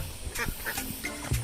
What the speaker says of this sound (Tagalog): Itong mga pato na to.